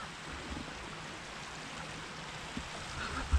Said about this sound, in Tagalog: Sa ilog kami guys, tabi ng ilog oh.